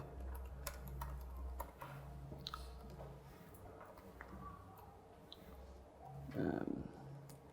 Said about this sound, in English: It's really hard typing when you can't look at the actual screen.